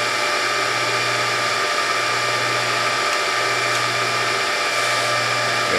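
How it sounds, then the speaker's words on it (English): A steady, loud motor hum with a pulsing low drone comes from the hydraulic press of a Norwalk juicer raising its platen, continuous and close, with a failing return spring, and no voices. "Let's take a look at this hydraulic action and show why the spring needs to be replaced."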